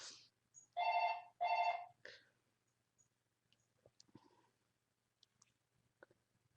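A phone rings in two strong, trilling bursts, then gives a short third chirp before going quiet. Faint clicks and small handling noises follow, with no clear speech.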